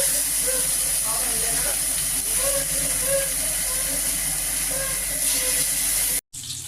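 Mangalore-style fish fries in plenty of oil on a tawa, giving a loud, continuous hiss and sizzle up close while a person speaks over it.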